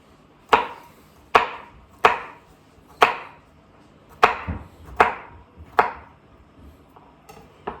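A knife chops through a single garlic clove on a cutting board, eight sharp, close knocks at an uneven steady pace, each with a brief ringing tail and no talking.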